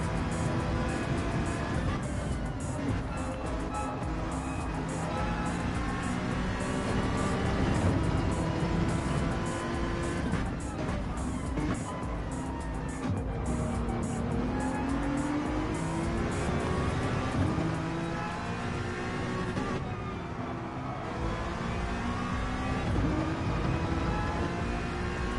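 Race car engine in Gran Turismo 7 during an online championship race, heard from the cockpit: a steady loud drone with rising and falling pitch as the car accelerates and shifts, continuous throughout.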